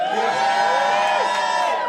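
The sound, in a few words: comedy club audience applauding and cheering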